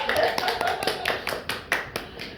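A small audience claps after a final presentation in an Indonesian classroom, a short burst of scattered, uneven hand claps with voices talking over it.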